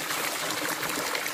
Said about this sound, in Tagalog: May tubig, unlimited dito.